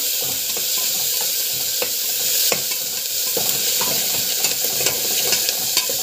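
Garlic and chana dal sautéing in a pan, a continuous close sizzle with repeated scraping stirs of a spoon against the pan, no talking.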